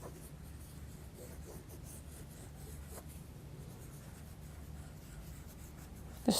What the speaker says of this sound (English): So I'm just going to keep scribbling around this bit.